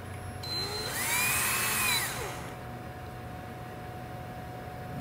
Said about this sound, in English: So I'll take my screwdriver, screw this board down.